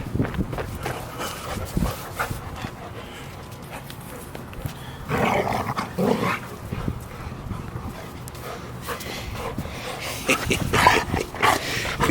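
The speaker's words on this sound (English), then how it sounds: "The dogs are outside" Dogs romp outdoors with scattered barks and scuffling, trotting paws, loud bursts around the middle and end over steady outdoor background noise.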